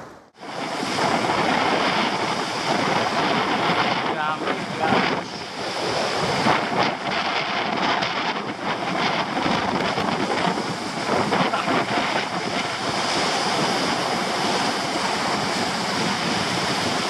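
Surf breaks continuously on a shore used for spinning fishing, a loud, steady roaring wash of waves with gusts of wind buffeting the microphone, and no voices.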